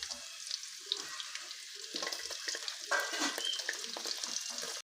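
Sliced onion sizzling in hot oil with fennel seeds, green chilli and ginger, a steady crackling fry with occasional stirring scrapes, close and continuous without speech.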